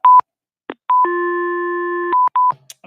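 A telephone line gives a steady dial-type tone lasting about a second, bracketed by short single-pitch beeps and keypad tones, loud and close with no talking.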